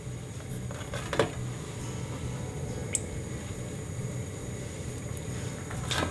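Moong dal kachoris frying in lukewarm oil, a steady soft low sizzle and bubbling with a few faint crackles, close and continuous with no talking.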